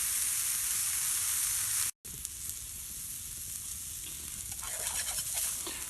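Carrots and vegetables sautéing in a camp mess kit over a wood fire in the woods, a steady close sizzle and hiss broken by one brief dropout, no talking.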